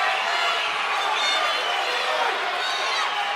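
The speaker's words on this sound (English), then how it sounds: "The crowd firmly behind both fighters here. There's a lot of noise coming." Crowd at a corporate boxing bout in Perth cheers in a dense, continuous roar that stays loud and close for the whole stretch, with no clear speech breaking through.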